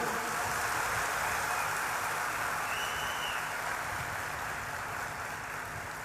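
An audience at a religious gathering applauds with a dense, steady, rain-like roar of clapping that fills the whole stretch, heard from somewhat far off.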